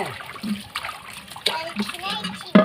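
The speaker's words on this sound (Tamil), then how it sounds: "கொஞ்சம் கழுவி பார்க்கலாமா இதை." Water splashes and sloshes over a brass vessel being washed, in a few short bursts close by, while a person talks over it.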